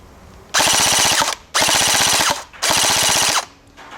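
Three rapid full-auto bursts from an AK74M gel blaster, each about a second long of fast buzzing shots, separated by short pauses, close and loud.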